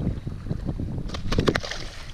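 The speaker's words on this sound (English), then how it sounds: "Unfortunately, the wind's going to be a pain with the audio" Wind gusting across open water while fishing from a boat, a steady roaring rumble with buffeting microphone noise and a few brief sharper rattles partway through.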